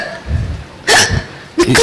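A voice imitates a hiccup on a comedy stage, giving two sharp, loud gulping bursts close together.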